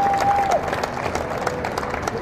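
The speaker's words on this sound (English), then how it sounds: "Big round of applause for all 3 of them." Applause for honorees at an interview event with marathon runners, heard as a short burst of crowd clapping after a brief tone fades.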